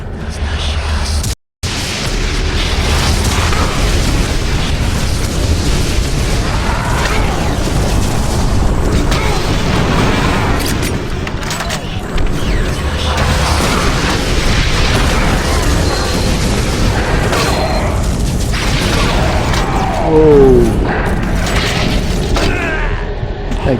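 Missile explosions in the Doom 3 BFG Edition video game go off as repeated loud booms over a dense, continuous wash of game noise, with a brief dropout near the start and a voice talking intermittently.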